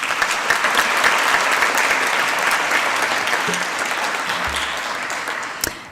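Audience at a high-level environment panel applauds the panelists with steady, dense clapping that holds at full strength for nearly six seconds before tapering off, with a brief knock just before the end.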